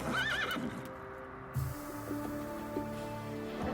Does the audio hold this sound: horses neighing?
yes